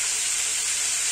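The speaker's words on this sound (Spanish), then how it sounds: "las vísceras están friendo" Peliguey offal fries on a grill at a family barbecue, giving a loud, steady, close sizzle that holds without a break and has no talk over it.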